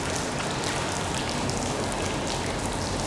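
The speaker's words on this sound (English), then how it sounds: "Rain is falling onto the LED panel and it's just bouncing off." Steady rain falls outdoors onto a waterproof Nanguang CN-ST288C LED light panel, a dense, even hiss of droplets spattering continuously throughout, with no voices.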